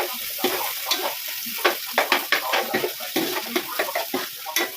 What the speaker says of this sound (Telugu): సో ఆనియన్ అయితే వేసుకోండి. ఫస్ట్ అయితే లైట్ ఫ్రై చేసుకోండి.